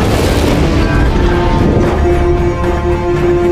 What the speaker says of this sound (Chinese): 车子发生剧烈的爆炸。